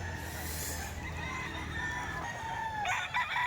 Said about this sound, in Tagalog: Ito, panindang manok.